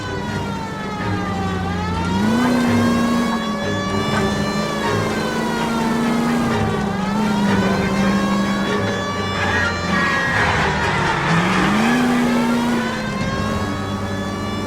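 Car chase in the video game L.A. Noire: a wailing police siren sweeps up and down continuously over loud engine roar, with brief revving and faint voices underneath.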